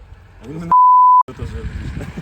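A sharp censor beep, a single steady half-second tone cutting into speech, with voices talking before and after it.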